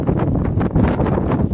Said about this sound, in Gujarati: પવન એટલો પવન છે ને